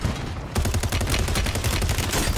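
Rapid automatic gunfire from an Uzi in Warzone, loud and continuous after a brief quieter opening, with dense bursts filling the whole stretch.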